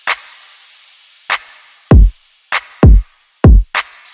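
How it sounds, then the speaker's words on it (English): Punchy electronic drums in a sparse, syncopated 2010s club-style pattern: deep booming kicks alternating with sharp claps or snares, loud and upfront. "2010s club inspired drum pattern that often sounds like this"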